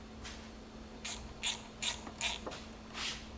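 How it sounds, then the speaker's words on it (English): Ratchet with an 8 mm socket tightening a recirculation line fitting on a Cadillac ATS-V turbo install, five or six quick clicking bursts in an uneven rhythm, close and fairly faint over a low hum. "And tighten that down with an 8 millimeter"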